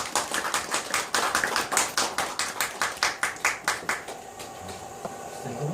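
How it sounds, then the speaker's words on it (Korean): Audience at a Korean national movement forum clapping to welcome a lecturer to the front, a steady run of fairly close, sharp handclaps that thins out and stops near the end, with no talk. "선생님 앞으로 나오시면 큰 박수로 환영드립니다"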